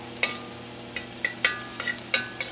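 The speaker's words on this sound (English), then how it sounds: "saute some garlic until it's nice and fragrant, taking care not to burn it" Garlic sautéing in a sesame-oiled wok for an oyster sauce stir fry: a steady low sizzle runs under several sharp, bright clinks and scrapes of a utensil against the pan, fairly close and with no talking.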